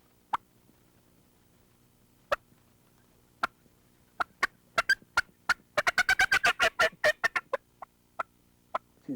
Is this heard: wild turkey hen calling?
yes